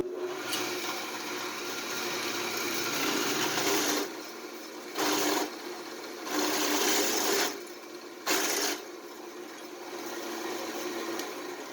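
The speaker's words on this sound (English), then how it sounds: "we're cutting a 7/16 hole in copper, and RPM is 1800" A drill at 1800 RPM whines and grinds, cutting a 7/16-inch hole in copper in sustained bursts, stopping and restarting several times, close and fairly loud.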